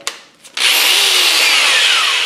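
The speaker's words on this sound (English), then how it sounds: "So I'm going to use a 1/8 inch drill bit." An electric drill with a hand-tightened chuck and a 1/8 inch bit bores into wood for a whirligig craft project: a short click, then a loud, steady high-pitched whine that runs continuously for about two seconds.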